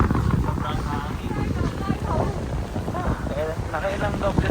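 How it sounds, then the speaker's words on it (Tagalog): Strong, cold wind buffets the microphone at the Ine fishing village in Japan, a steady low rumble and roar heard under people talking throughout. "Sobrang lamig. Sobrang hangin."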